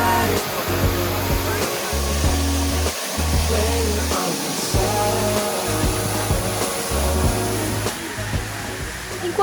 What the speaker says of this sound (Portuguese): havia uma cachoeira particular.